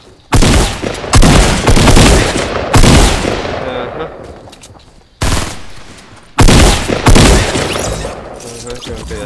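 Loud, close gunfire in a Fortnite match comes as several heavy bursts of shots, each trailing off into a decaying echo, with a pause between groups and a player talking over the action.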